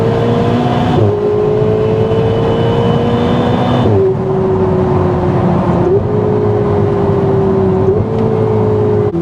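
Ferrari 488 V8 in race mode with its exhaust valves open, a loud, steady high-revving drone that holds close and constant, with short dips and shifts in pitch as the revs change.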